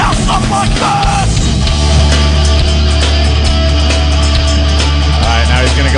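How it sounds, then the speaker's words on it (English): Dense, loud country music plays continuously, fast fiddle over a driving double bass, with no gaps. "Double bass with demons joined in, and it sounds something like this."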